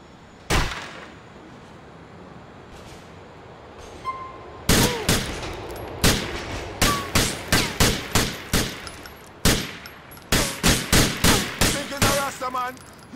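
Video game gunfire in GTA IV: loud, sharp shots fired in rapid clusters, first one isolated blast, then dense volleys with a faint crackle between bursts, and no voices.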